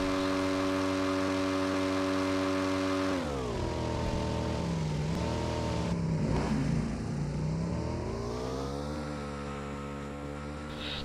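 A car engine hums and revs in the mobile battle royale game BGMI, holding a steady drone, dipping and rising again as it accelerates, loud and continuous with no talking.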